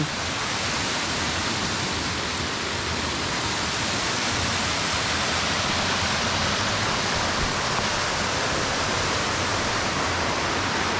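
A natural waterfall in Utah, falling over rock from a high ledge, roars as a steady, dense broadband rush with no break or change across the whole stretch, loud and close with no voices.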